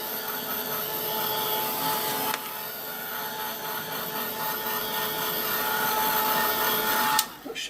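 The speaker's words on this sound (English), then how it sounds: "I'm going to give that a quick blast with my heat gun" A heat gun blows a steady, loud whirring roar while drying damp distress ink on a card, running continuously with a small click partway through and a clunk as it shuts off near the end.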